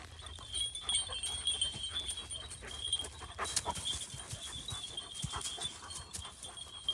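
A free-spirited dog pants steadily and gnaws at the rope it is tied with, outdoors in autumn, close to the mic with faint rustling and steady broadband background noise.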